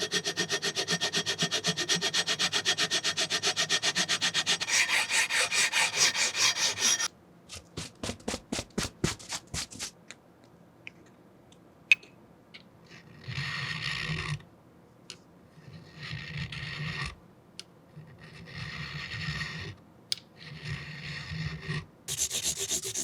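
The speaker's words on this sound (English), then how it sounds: "we're going to file the tops until all are exactly the same height" Guitar frets are filed and sanded to an even height on a neck, first as a long continuous rasping rub, then as quick separate strokes, then as bursts of scraping between short pauses, all close and alone.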